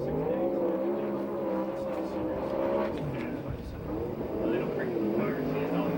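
A USAC/CRA sprint car runs a qualifying lap at Perris, California, its engine droning and rising and falling in pitch. The engine is loud and continuous, with an announcer talking over it.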